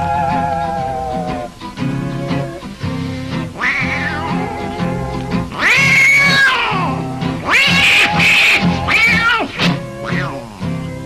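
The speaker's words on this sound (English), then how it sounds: "now that old tomcat started a fight" An old tomcat fighting and caterwauling, loud drawn-out yowls and wails rising and falling continuously, mixed with harsh squalls and overlapping cries, with a music-like tonal background throughout.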